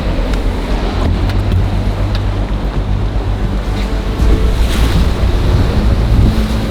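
Seen from a boat, the Amazon River surges past in loud, continuous churning waves and spray, mixed with heavy wind buffeting and a low motor drone underneath.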